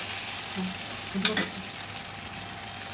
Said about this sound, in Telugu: వేడి వేడి ఊతప్ప మంచి ఒక సైడ్ కాల్చుతుంది, 2 సైడ్ కాల్చుకోవాలి మంచి నీట్గా